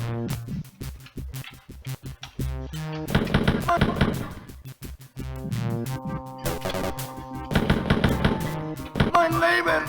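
Sharp bursts of pistol and machine-gun fire in the classic shooter Wolfenstein 3D, rapid cracks in the opening seconds, then scattered over a tonal, synthesized game soundtrack.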